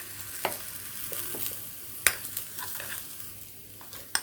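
Sautéed onions being added to a chutney mixture, a spoon scraping and clicking against the pan in scattered taps over a faint background, with no talking.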